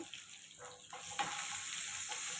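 Chopped ginger and garlic fry in oil in a pan with dried red chillies, giving a faint, soft sizzle broken by a few stirring scrapes.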